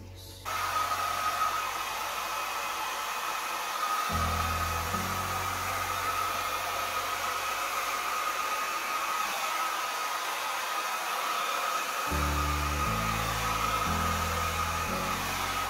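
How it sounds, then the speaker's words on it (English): Hair dryer blowing steadily across a freshly poured ribbon of acrylic paint, switching on with a loud constant whooshing hiss that runs without a break, while faint low tones sound softly underneath. "I'm gonna get my hair dryer and see what happens."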